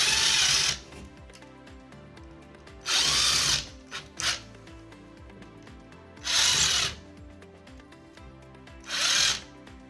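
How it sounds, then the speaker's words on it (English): A power drill with a 3/16 inch bit whirs in four loud bursts, each a few seconds long, boring into drywall with quiet pauses between. "take a 3/16 inch drill bit and drill holes at the 2 marked spots"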